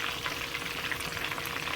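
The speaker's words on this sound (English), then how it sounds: "So I'm over here frying 2 nice snapper." Snapper fish sizzles and crackles in hot oil, a steady close frying hiss with small popping bursts throughout.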